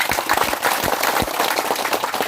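Audience at a FORKABI regional meeting in North Jakarta breaking into applause, a short burst of many hands clapping in a room, fairly loud and dense, with faint voices underneath.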